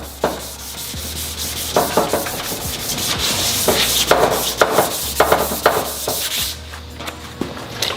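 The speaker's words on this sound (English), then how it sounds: "that means you're sanding clear coat" Wet sanding of clear coat on a car panel: a steady rubbing scrape with rhythmic strokes and occasional knocks, close and fairly loud, no voices.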